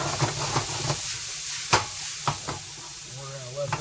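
Diced red pepper sautés in butter with onions in a pan, producing a soft, steady hiss and sizzle with occasional clinks and stirring scrapes, fairly quiet and close.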